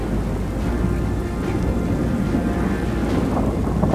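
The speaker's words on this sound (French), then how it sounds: "L'orage finit par s'étaler, on est sous les précipitations" A thunderstorm with rain produces a dense, continuous roar of precipitation and low rumble, steady and loud throughout, with no voices.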